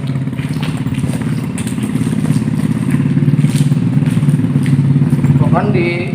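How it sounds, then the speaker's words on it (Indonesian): A motorcycle rides through a dark old railway tunnel built between 1913 and 1916 in Indonesia, its engine a loud, steady rumbling drone that swells in the middle and echoes, with a brief high squeak near the end. "ada motor lagi di depan."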